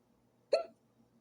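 A single sharp, close hiccup breaks a quiet kitchen where pork loin is cooking in a crock pot, short and alone with nothing else around it.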